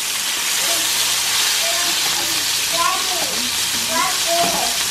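Bacon sizzles and crackles steadily in a hot pan, a continuous hissing fry with occasional faint higher chirps in the background.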